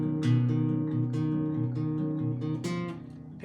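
Guitar fingerpicked on strings one, two and three, a handful of clear picked notes in a short repeating pattern, close and fairly quiet.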